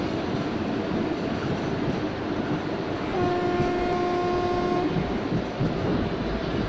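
Train running on tracks in Indian Train Simulator, a steady loud rumble of wheels and carriages with a sustained locomotive horn blast partway through.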